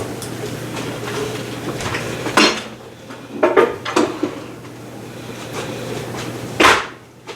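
Pots, lids and dishes clink and clatter while chicken is loaded into a Ninja Combi slow cooker, a few sharp knocks and scrapes over a constant low appliance hum.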